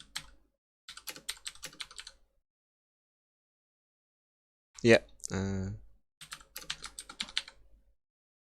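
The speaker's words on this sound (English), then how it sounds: "Oh, Aki typing in" Quick bursts of clicking keystrokes on a computer keyboard, close and crisp, come in two runs separated by silence, with a short spoken interjection between them.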